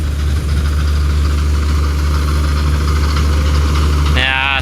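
A Swaraj 744 tractor engine idles with a steady low rumble and constant vibration close by in a village field, running unbroken throughout.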